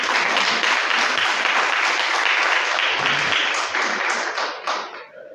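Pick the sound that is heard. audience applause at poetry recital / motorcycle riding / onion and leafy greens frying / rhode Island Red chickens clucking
audience applause at poetry recital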